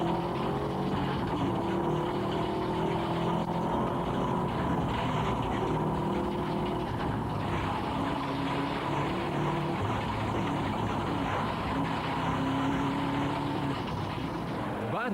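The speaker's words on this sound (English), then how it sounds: "Stephen Richards powers the WRX Impreza as you'd expect" A Subaru WRX Impreza rally car drives at speed during Targa New Zealand 2004, its engine droning steadily with rising and falling gear pulls, close and sustained, a voice talking over it at times.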